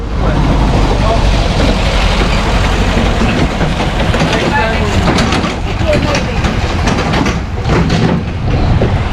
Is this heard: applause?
no